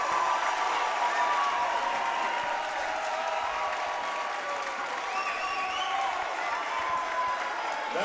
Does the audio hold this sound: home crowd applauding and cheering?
yes